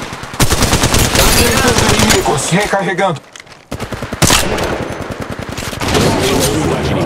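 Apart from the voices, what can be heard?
gunfire in video game Apex Legends Mobile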